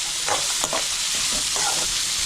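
Onions and carrots frying in a pan for carrot chutney, a continuous close hiss of sizzling oil with a few scraping stirs of a spatula across the pan.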